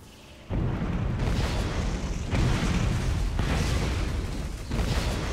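Explosions in the video game Borderlands boom in a dense, loud roar of blasts, heavy rumbling bursts following one another almost continuously after a quieter start.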